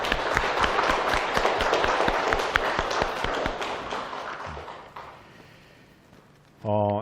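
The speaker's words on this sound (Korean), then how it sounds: "서로 한 박수 한번 칩시다" A church congregation claps together, brisk many-handed clapping that gradually thins and fades out, followed by a short burst of voices at the very end.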